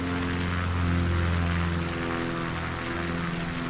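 A propeller airplane engine drones steadily in Microsoft Flight Simulator 2024, a loud, continuous hum with a throbbing low tone held for a few seconds and no voices.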